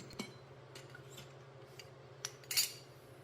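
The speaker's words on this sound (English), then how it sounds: "here I'm slipping the last bit of the inside side of the tire over the rim with the Baja No Pinch Tool" A Baja No Pinch Tool levering the last bit of a motorcycle tire's inner bead over the rim: faint, sparse metallic clicks and taps, ending in a brief louder scrape, close by in a quiet space.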